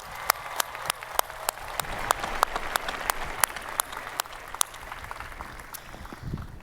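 A large audience at a university commencement applauds, a sustained wash of clapping with sharp individual claps standing out close by.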